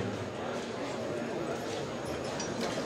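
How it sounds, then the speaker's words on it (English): A big pair of draft horses walking in at a horse-pulling contest, their hooves clopping in a steady rhythm under someone talking over a loudspeaker. "Yoder Boys bringing us another nice big pair of horses"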